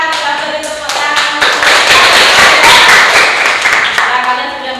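A classroom of students clapping for the presenting groups, a dense, close burst of hand claps building and sustained for several seconds, with a voice briefly heard at the start.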